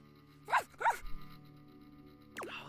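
Great Dane dogs in the Date Everything video game give two quick close barks, followed later by a softer higher yelp against a quiet background.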